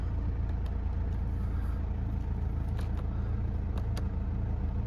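A Mercedes-Benz E220 CDI diesel saloon with an automatic gearbox idles with a steady, low, even engine rumble that stays constant throughout at moderate volume.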